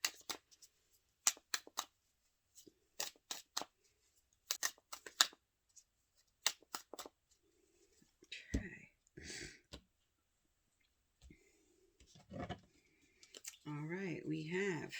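Relationship tarot cards are shuffled in quick, crisp bursts of riffling and flicking near the microphone, separated by pauses, with a soft voice speaking toward the end.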